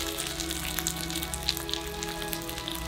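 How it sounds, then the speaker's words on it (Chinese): Pork ribs stir-frying in a Buydeem braising pot give a steady, close sizzle with scattered crackling pops over a low hum, with no talking. "先把排骨用北鼎这个焖焗锅给炒一下"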